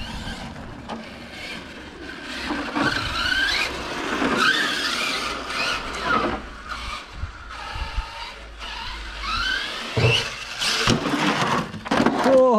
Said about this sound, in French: Oh, le petit coup de frein.